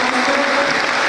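A dense burst of applause from a talk show audience, steady and loud throughout, with no voices rising above the clapping.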